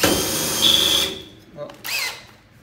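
A power drill fitted with a waxed bit cuts a hole through aluminum for boat building. A loud, close whir and whine lasts about a second, then cuts off, followed by a brief voice-like sound.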